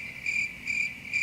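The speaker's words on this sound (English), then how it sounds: "it's fucking crickets right now" A cricket sound effect chirps in steady, evenly spaced trills over a faint background hiss, with no voices.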